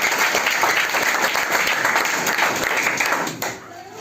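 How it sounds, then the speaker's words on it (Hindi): A classroom audience at a tenth-grade prize ceremony at a coaching centre bursts into sustained, dense clapping that stays loud and close, then quickly fades out near the end. "ताली के लिए।"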